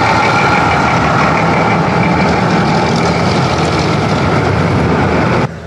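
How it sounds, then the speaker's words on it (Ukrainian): Steady loud engine rumble and cabin noise of a marshrutka minibus running to Drohobych, continuous throughout with no break. "Ось маршрутка на Дрогобич"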